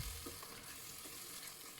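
Onion and dry fruit paste being stirred into chicken korma in a hot pan gives a dense, steady sizzle with continuous stirring underneath, loud and close with no talking.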